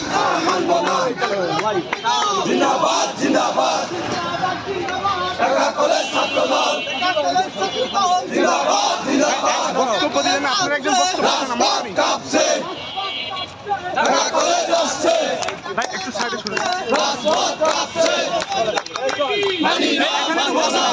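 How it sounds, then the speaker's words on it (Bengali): A large crowd of student protesters at a Dhaka College rally chants slogans in loud unison, voices overlapping in a dense, continuous roar on a street with no pauses. "বিক্ষোভ মিছিলে কিন্তু বিভিন্ন ধরনের স্লোগান দিচ্ছে"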